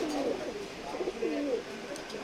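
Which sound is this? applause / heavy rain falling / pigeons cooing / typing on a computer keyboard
pigeons cooing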